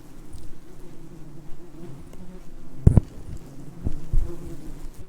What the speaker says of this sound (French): Mais tu vois les guêpes